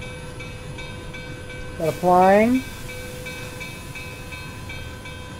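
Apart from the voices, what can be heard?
Amtrak train running in the video game Railworks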